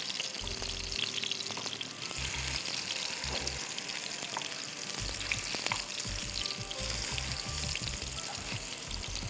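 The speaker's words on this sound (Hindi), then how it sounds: "तो इसी तरह शैलो फ्राई करिएगा फिलिप बेरी ऑलिव ऑयल में।" Chicken kebabs shallow frying in olive oil, a steady close sizzle and crackle with occasional low bumps from the pan, with no talking.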